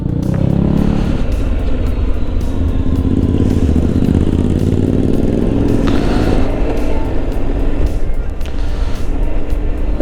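A 2025 Honda Forza 750 scooter being ridden on the road, its engine a loud steady drone with wind rush and road noise running continuously throughout, with no talk.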